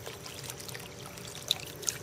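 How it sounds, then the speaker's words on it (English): Water trickling and pouring out the end of a pool vacuum hose at a swimming pool, a soft steady dribble with faint splashy wash and two brief sharper splashes near the end, fairly quiet. "water comes out"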